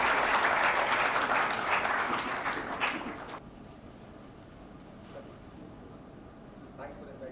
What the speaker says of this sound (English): Can we all give a better round of applause?